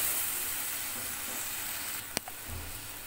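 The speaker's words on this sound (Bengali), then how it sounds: "এই যে কেটে রাখা টমেটোটাও মশলার সঙ্গে কষিয়ে নেব" Chopped tomato cooking down with spices in a pan for a catla fish and pea curry, a faint steady hiss with a single sharp clink near the end and no talking.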